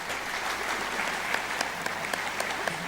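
Loud, sustained audience applause fills the hall at a Pakistan Air Force tribute event for Junaid Jamshed, welcoming Humayun Jamshed and Taimur Junaid to the stage, with a few sharper claps standing out from the steady roar.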